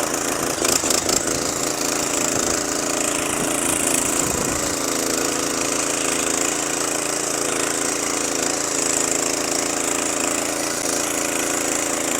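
A walking tractor engine runs continuously while plowing a field, a steady loud mechanical drone with some clattering knocks early on and no talking.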